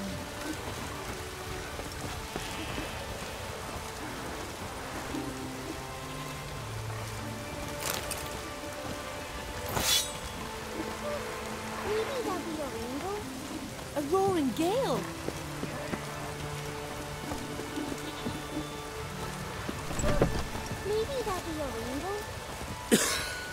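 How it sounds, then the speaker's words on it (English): Steady rain in The Witcher 3 video game, a constant hiss of drops on surfaces filling the scene, with game voices, a cough and other effects heard over it. "Oh, raining again."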